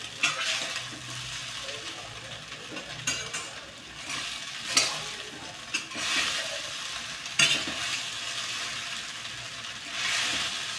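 Kande pohe with onion sizzles in a pan while a spatula stirs it, a continuous frying hiss broken by repeated sharp scraping knocks against the metal.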